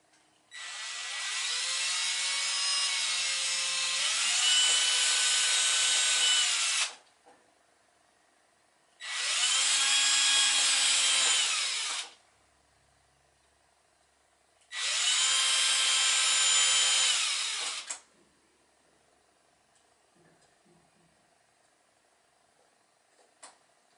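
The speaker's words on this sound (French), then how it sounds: "j'ai mis un clou sur ma perceuse et je vais" A power drill fitted with a nail as its bit drills holes in a toy boat's rigging parts, in three loud bursts of steady whine, each several seconds long, separated by short silences.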